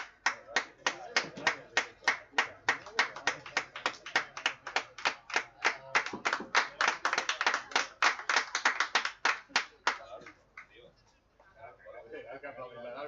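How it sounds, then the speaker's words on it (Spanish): A few people clap sharply for the referee at an under-23 water polo league match, a quick run of distinct, fairly close handclaps that speeds into a steady beat, then stops as faint background sound continues. "Hay que aplaudirle al árbitro que ha salido, ha decidido pitar."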